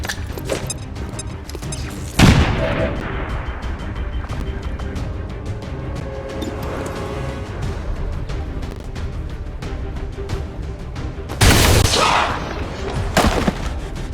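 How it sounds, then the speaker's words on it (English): Combat in the video game XCOM 2 brings a sharp grenade blast followed by scattered thuds and crackling gunfire, then a second heavy explosion burst near the end, loud against a steady rumbling backdrop without speech. "Grenade out!"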